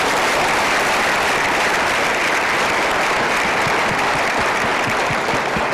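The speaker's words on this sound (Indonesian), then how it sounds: "Berikan tepuk tangan bersama-sama." Studio audience applause on an Indonesian TV game show: a loud, sustained wash of dense clapping that stays even throughout.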